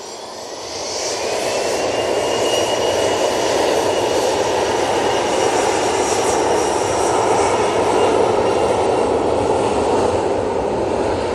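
Aircraft engines roar at Manchester Airport as a plane prepares to depart, a loud, steady broadband rumble with a rising whine that holds throughout, with no talk over it.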